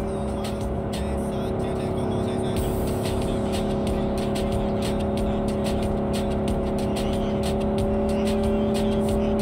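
Car driving in the video game Cyberpunk 2077, a steady loud engine drone with road noise throughout, close and continuous, without talking.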